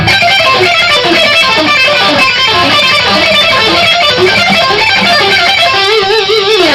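Loud, fast electric guitar lick runs a rapid four-note sequence against a repeated pedal tone, notes tumbling continuously and evenly with a bright, slightly classical feel, no talking.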